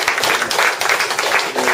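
Audience clapping at a Korean religious training gathering, a short burst of dense, fairly loud applause with uneven pulses and no speech over it.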